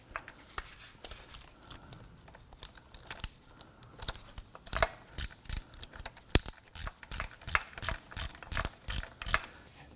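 A hand ratchet tightens starter bolts on a 2003-2014 Volvo XC90, scattered clicks at first, then a brisk, regular run of sharp close pawl clicks in quick bursts.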